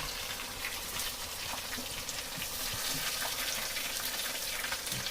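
Onions fry in hot oil in a pan with a dense, even sizzle that stays steady and close throughout, no voices over it.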